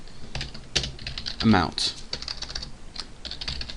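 Rapid clicking keystrokes on a computer keyboard while writing a Java program, heard close and steady with a few louder key taps, under a man's brief speech.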